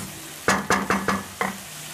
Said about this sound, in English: Then I'll give this a good stir.